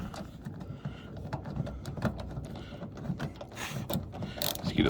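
A screw is driven into the door latch of a 1977 Ramcharger, giving a run of small ratcheting, clicking tool sounds up close over faint background noise.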